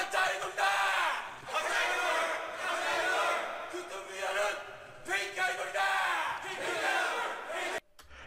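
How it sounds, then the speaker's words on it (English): A shouting crowd in a music video teaser, a loud massed roar of many voices rising and falling in waves across several seconds before cutting off briefly near the end. "It's kind of transporting this energy of this just shouting crowd."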